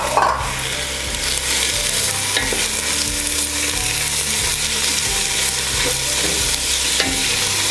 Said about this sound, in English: we're just going to saute this for about 2 or 3 minutes